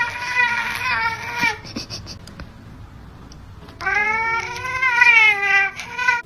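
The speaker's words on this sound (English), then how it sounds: "A vampire black cat." A black cat meows and caterwauls in loud, drawn-out wailing cries, a long yowl, a pause with small sounds, then another rising, wavering yowl, close up, indoors.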